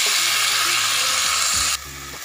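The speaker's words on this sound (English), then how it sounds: "So we're gonna go ahead and put the pork." Marinated pork hitting a hot pan with browning aromatics, giving a loud, steady sizzle that hisses continuously before dropping to a quieter fry near the end.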